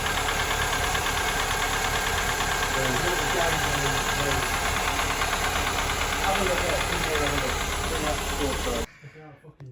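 A Toyota Carina II engine, revived after sitting abandoned for eight years, runs steadily on stale leftover fuel, a loud continuous rumble with a knocking, hissy edge that cuts off abruptly near the end.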